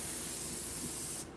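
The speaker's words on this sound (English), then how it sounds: "So I'm just spraying it out to where it's coming up." An airbrush sprays paint out in a steady, loud hiss while being cleaned during a mask modification, and the hiss cuts off abruptly near the end.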